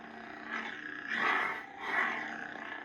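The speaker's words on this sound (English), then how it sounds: "So just with the blade style and the sound, it's just so loud. That like pulsating blade." A loud, pulsating 89Sabers Fallen V2 lightsaber blade hum, with a buzzing roar that swells and dips in a few slow waves.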